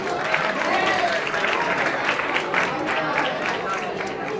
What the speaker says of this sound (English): can you give our team a round of applause for playing that game with you today?